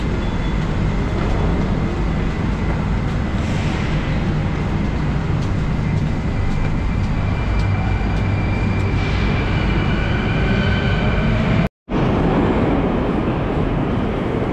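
A Moscow metro train rumbles through the underground Komsomolskaya station, a steady loud roar with a brief cutout near the end.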